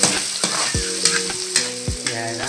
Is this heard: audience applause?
no